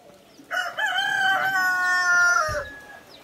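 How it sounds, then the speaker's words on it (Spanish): A peacock at a hacienda gives one long, loud, wailing call close by, its harmonic cry rising and then sliding down. It carries on for about two seconds with no talking. "Pavos reales de esto."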